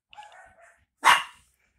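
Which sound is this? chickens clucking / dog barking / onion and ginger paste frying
dog barking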